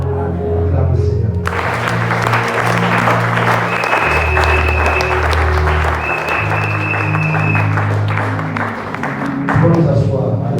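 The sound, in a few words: congregation applauding in church service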